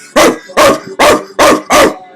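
A person imitates a dog with five loud, evenly spaced barks, each short and harsh, delivered up close with brief silences between them.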